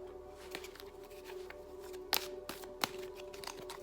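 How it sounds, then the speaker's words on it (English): Tarot cards being shuffled by hand in sparse, soft riffles and taps, with a couple of sharper snaps standing out over a steady low hum. "I'm going to shuffle and pick the cards for you guys and lay them out here."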